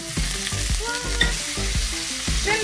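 Shrimp sizzling and frying in a pan, a steady crackle with soft repeated scraping stirs, fairly close and with no voices.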